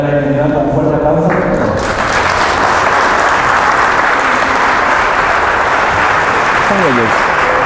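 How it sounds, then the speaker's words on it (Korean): Loud, sustained applause from a conference audience in Irapuato, Mexico, welcoming a speaker to the stage; dense clapping fills the whole stretch after a brief opening of voices and music. "darle la bienvenida con un fuerte aplauso."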